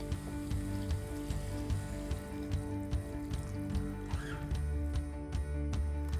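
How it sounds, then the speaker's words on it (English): Stock poured into a hot pan of frying onions and tomato paste for an Anglo-Indian chicken stew, giving a steady close sizzle and bubbling with faint liquid splashes and light stirring clicks, no voices. "And then goes in the key ingredient, good stock."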